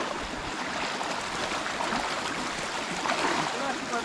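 River water flowing at night during black crab catching, a continuous close gurgling wash with faint splashes, steady throughout.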